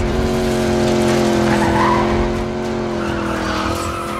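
Cars in a racing video game skid hard with loud, sustained tire squeal over roaring engines, one continuous screech that shifts in pitch before easing slightly, with no talk.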